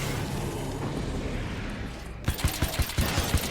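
Bombs or grenades going off in the video game Alan Wake's American Nightmare, a dense roaring burst of noise followed by a string of sharp, loud thumping blasts in quick irregular succession.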